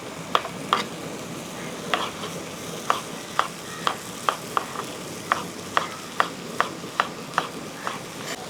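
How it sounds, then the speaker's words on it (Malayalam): Sliced onions sautéing in a pan as a close, steady sizzle, with regular sharp spatula taps and stirring clatters marking a brisk rhythm throughout, no voices. "അപ്പം നമ്മൾ സവോളയൊക്കെ നല്ലപോലെ ഒന്ന് വഴറ്റി വന്നിട്ടുണ്ട്"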